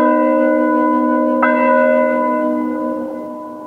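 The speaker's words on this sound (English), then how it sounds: "the church bell would be tolling from morning to evening" A single deep church bell strike rings out, its rich overtones humming and slowly fading, with a faint clang mid-decay.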